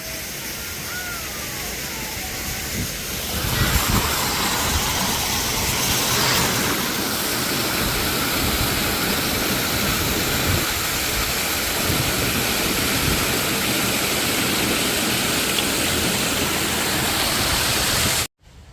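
A waterfall at the Montreal Botanical Garden roars as a loud, steady rush of broadband water noise for about eighteen seconds. Voices are faint near the start, and the sound cuts off abruptly at the end.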